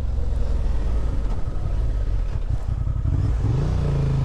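A 2023 Honda XL750 Transalp motorcycle engine while riding, a loud, steady low-pitched drone with a rising rev near the end, close and constant throughout.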